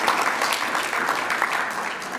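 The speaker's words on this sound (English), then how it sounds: "Please, can we give FAO a big round of applause?" Audience at an engineering week forum in Zambia breaks into a round of applause, a dense, even wash of clapping that holds steady for about two seconds without speech.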